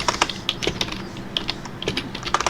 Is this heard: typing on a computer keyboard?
yes